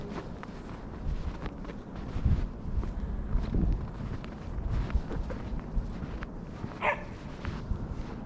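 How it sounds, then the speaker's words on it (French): Dogs romp outdoors in deep snow in Toronto after a heavy storm, giving a few scattered barks over gusty wind noise on the microphone and crunching footsteps nearby. "Il y a des chiens qui adorent."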